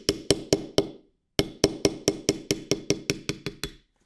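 A nylon punch taps a plastic Glock rear sight in sharp, crisp knocks, four spaced strikes, a brief pause, then a steady run of about ten more, close and loud with no talking.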